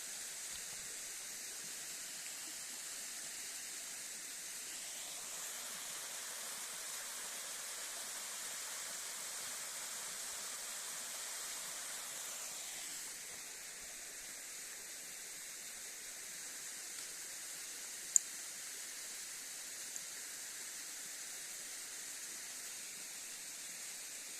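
Sopit waterfall: a steady, even rush of falling water heard from a distance, soft and continuous throughout, with a couple of tiny clicks near the end.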